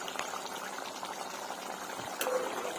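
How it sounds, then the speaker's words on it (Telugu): Green chicken curry made with a ground paste and half a glass of water boils steadily in a pot, giving a continuous close bubbling hiss with a brief louder burst near the end. "చూడండి మన గ్రీన్ చికెన్ ఎలా ఉడుకుతుందో."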